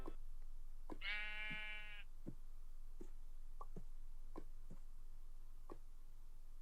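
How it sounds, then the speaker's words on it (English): A sheep in a video game lets out a single loud, wavering bleat lasting about a second. Scattered faint clicks and taps follow in an otherwise quiet scene. "Sheep."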